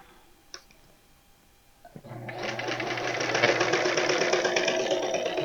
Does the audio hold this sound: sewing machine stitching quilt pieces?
yes